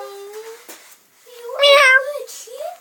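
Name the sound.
cat meowing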